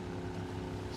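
A boat engine running in Max Payne 3, a steady low droning hum with even tonal throb, moderately distant and unbroken for the full moment.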